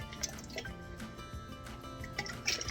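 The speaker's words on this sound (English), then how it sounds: "You can hear the water" Water sloshes and drips inside a Stanley tumbler at close range over a sink, with small splashes and gurgles running steadily through the clip, no talking.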